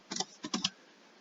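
A short burst of typing on a computer keyboard: about five quick keystrokes clustered close together, crisp and near, then quiet.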